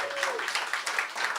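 An audience applauds poets at a poetry screening event, a dense patter of clapping throughout, moderately loud and steady.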